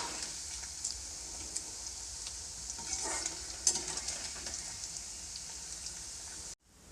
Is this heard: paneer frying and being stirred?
yes